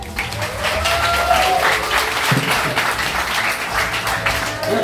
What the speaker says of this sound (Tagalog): Palakpak mo!